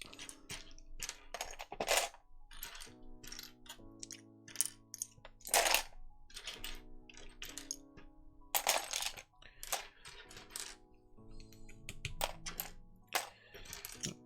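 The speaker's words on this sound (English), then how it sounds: "we can basically put any of the purple keys now in the tub" Plastic keycaps from an Isla prototype keyboard dropped into a tub, a long run of light clicky clatters in uneven bursts with sharp transients and short gaps, close and fairly loud, over a faint steady hum.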